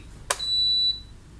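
Heng Long KV-2 1/16 scale RC tank, version 7.0, giving a single short high electronic beep as it powers on, clean and close in a quiet room, then fading to silence.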